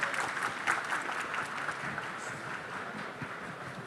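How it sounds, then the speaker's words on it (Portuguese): Audience applause with some cheering fills a business technology conference panel room, a dense steady clatter of many hands continuing throughout without pause. "Estou gostando da torcida."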